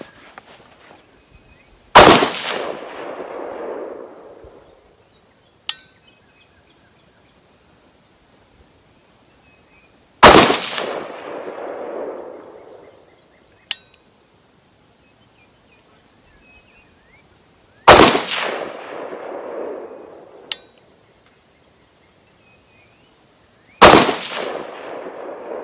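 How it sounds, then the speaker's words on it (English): A rifle with a BCA CHF 5.56 upper fires outdoors, four sharp, loud shots spaced several seconds apart. Each shot is followed by a rolling echo tail and a small metallic click, with no talking. "this is just to show you how I'm firing off these five-shot groups"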